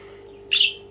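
A single short, bright bird squawk bursts out near the end, loud and close over a quiet, steady background hum.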